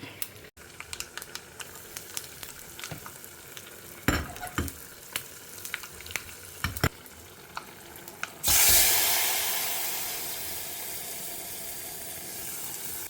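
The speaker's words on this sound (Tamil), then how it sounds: "எண்ணெய் வச்சுருக்கேன் தேங்காய் எண்ணெய் யூஸ் பண்ணுறேன் ஸோ கடுகு உளுத்தம்பருப்பு கடலப்பருப்பு பொரிஞ்சுதுன்னா பெருங்காயம் ஆட் பண்ண வேண்டிதான்" Mustard seeds, urad dal and chana dal crackle in hot coconut oil, with scattered sharp pops and spits that give way to a loud, steady sizzle as more goes into the pan, close and without talk.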